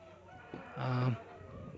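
A single chicken lets out a short, strained squawk close by at a pet and livestock market in Hyderabad, over a low murmur of background noise.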